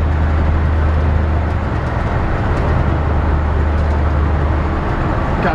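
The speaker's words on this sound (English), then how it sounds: "Plenty of power out of the engine." A 1956 Ford F-100 pickup truck drives along with a steady, loud low engine drone and road rumble. The sound is continuous and even throughout, with no talking.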